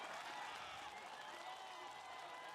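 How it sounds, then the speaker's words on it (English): A round of applause from an audience at a live immunization agenda event, faint and steady, with many hands clapping at an even level throughout. "let's offer you a round of applause because you are one of thousands"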